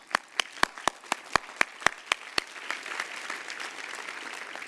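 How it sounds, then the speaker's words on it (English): A graduation crowd at a university commencement claps through a round of applause. About ten sharp, evenly spaced claps sound up close, then a broad wash of distant clapping from the audience continues. "Give yourself a round of applause"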